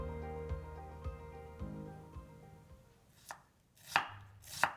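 A knife slices an onion thinly on a board with evenly spaced, soft taps. These give way to a few louder, sharper chops near the end. The sound is quiet and close, with no speech.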